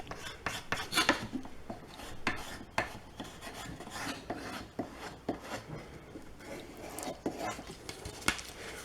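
A knife blade scrapes and rasps along a wooden yardstick being shaped into a shoehorn, close and steady, in repeated short strokes with a brief pause around the middle.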